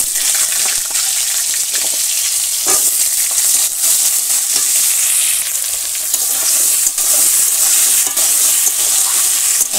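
Potatoes and pumpkin fry loudly in hot oil with nigella seeds, green chilli and cucumber in a village kitchen, making a dense, continuous sizzle with occasional stirring knocks and spattering bursts.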